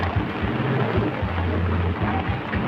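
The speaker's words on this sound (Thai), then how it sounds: "ตอนนี้ฝนตกพี่น้อง ฝนตกกับบ่ได้อยู่" Heavy rain pours down outside a house in a steady, dense wash of hiss with a low rumbling undertone, continuous throughout and without voices.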